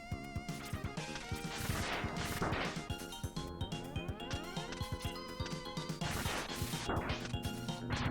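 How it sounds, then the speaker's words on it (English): Crushing trap in Mega Man X2 slams repeatedly, giving sharp metallic crashes and clanks over busy, bright game music, loud and rapid throughout. "we gotta trigger this and then run like heck to get away from getting smashed"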